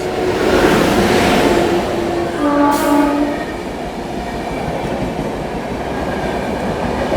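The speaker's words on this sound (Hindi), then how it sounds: "दोस्तों सामने से आ रही है गया आनंद विहार गरीब रथ एक्सप्रेस" The Gaya–Anand Vihar Garib Rath Express passes close on Indian rails, a loud rolling rumble with a sustained horn blast and a brief sharp squeal, then fading wheel clatter.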